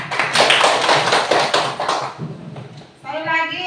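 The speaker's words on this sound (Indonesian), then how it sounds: "Tepuk tangan untuk anak Aulia" Children in a classroom clap their hands together in a loud, rhythmic burst of steady taps that fades after about two and a half seconds, followed by a short stretch of voiced sound.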